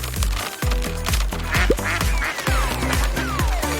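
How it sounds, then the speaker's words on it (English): Cartoon electric ducks give a run of loud, rhythmic, tonal quacks and honks, repeating in quick stepped bursts with a musical, synthesized quality. "They're cute little electric ducks."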